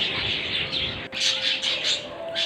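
Budgerigars in an aviary chirp and chatter continuously at close range, a busy overlapping twitter with brief sharper calls.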